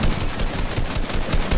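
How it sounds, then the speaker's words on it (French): Rapid bursts of gunfire from a Fortnite box fight, dense and continuous with repeated sharp shots close up, no talk over them. "J'ai tiré."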